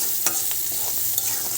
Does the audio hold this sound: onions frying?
yes